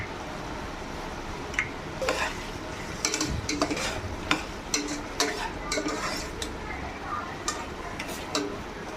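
Cumin seeds stirred in a pan, with a soft sizzle under frequent sharp metallic scrapes and taps of a spoon against the pan, close and fairly loud.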